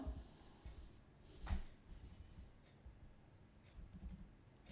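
Computer keyboard pressed repeatedly to type spaces, giving quiet, sparse key taps with one sharper knock partway through, heard close against a faint room background and no speech.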